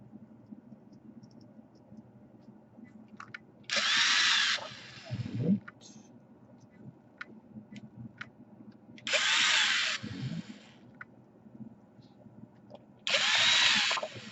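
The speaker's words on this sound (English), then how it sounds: "Let's screw it in place." An electric screwdriver drives a screw into an Asus Q301L/Q302L laptop during a DC power jack repair, giving three short whirring bursts separated by quieter handling clicks and light rustling, recorded up close.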